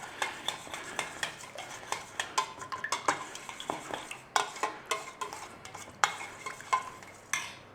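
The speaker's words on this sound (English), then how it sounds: "And we want some melted butter in there. Nice little stir on and we got this beautiful glaze." A spoon stirs a glaze of melted butter and minced garlic in a tray, giving a steady run of light scraping clicks and taps against the metal, close and fairly quiet, with no talk.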